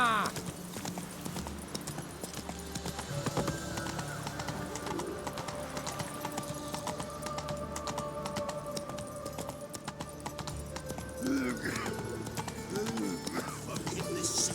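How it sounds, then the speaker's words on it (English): Roach, Geralt's horse in The Witcher 3: Wild Hunt, gallops through Novigrad with a steady rhythmic clip-clop of hooves under game music and ambience, while someone talks over it. "Run, Roach."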